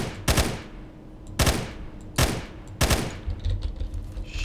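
Gunfire in the shooter game S.T.A.L.K.E.R.: Lost Alpha, four loud, close bursts of rapid shots spaced about a second apart, each ringing out briefly, with quieter rustling between them.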